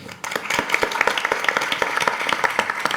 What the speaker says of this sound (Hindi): और सब आप सबके लिए एक तालियां प्लीज़